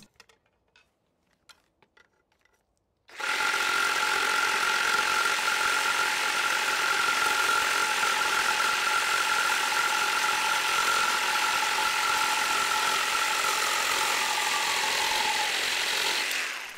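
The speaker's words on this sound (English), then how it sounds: "let's move it over to the metal lag screws. I want to see how this cuts through some metal." A Skil PWRCORE 20V cordless reciprocating saw cuts through metal lag screws: a few faint clicks, then a loud, steady buzzing rasp that runs unbroken for about thirteen seconds with no talking.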